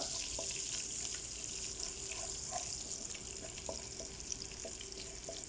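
Finely chopped garlic frying in a pan for restaurant-style fried rice makes a continuous, fairly soft hiss with a few small pops.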